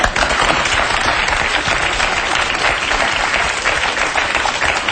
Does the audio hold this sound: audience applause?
yes